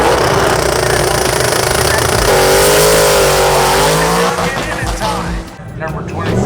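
A car at a drag-racing meet accelerates hard through its gears, the loud engine note climbing then dropping at each shift. Crowd noise and talk sit underneath, and the roar fades toward the end.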